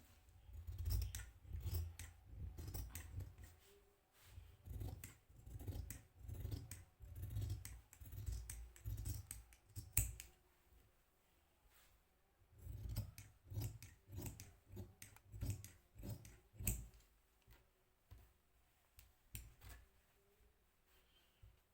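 Scissors snip through fabric while an anarkali kurti is cut out, a steady run of close crisp chops in two bursts with a quiet pause between them and no talking.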